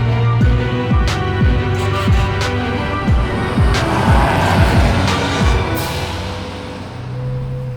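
A 1968 Jaguar 420 classic carburetor saloon runs close by, its engine droning steadily with repeated throttle blips and shifting revs, loud and continuous with no talk.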